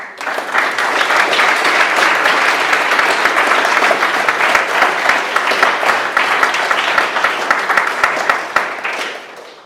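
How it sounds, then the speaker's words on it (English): Wedding guests at a ceremony break into steady, loud applause that continues for about ten seconds before tapering off at the end. "I think they deserve a round of applause."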